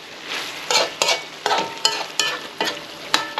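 Rhythmic bursts of sizzling from chicken frying in a pan, repeating roughly every half second as it is stirred, close and moderately loud with no talking.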